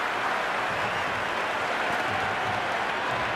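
A steady crowd buzz fills the stands in a cricket video game match between India and Australia, with broad, continuous cheering and murmur at an even level and no distinct voices breaking through.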